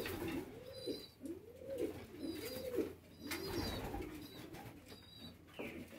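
Pigeons in a pigeon loft give a series of soft, rolling coos, about four in a row, repeating rhythmically at close range. Faint higher chirps come from other birds over a quiet background.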